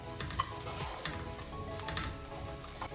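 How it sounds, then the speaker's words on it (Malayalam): Vermicelli and chopped vegetables sizzle in a pan while a utensil stirs them, giving soft, irregular scrapes and clicks over a steady, quiet frying hiss. "ഒന്നുകൂടി ഒന്ന് മിക്സ് ചെയ്യാം."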